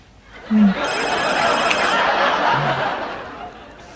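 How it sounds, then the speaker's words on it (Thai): A telephone rings with a bright, rapid electronic trill for about a second, close and loud over a noisy room, while people laugh and chatter around it. "เสียงโทรศัพท์เนี่ยดังมาถึงปัตตานีแล้ว"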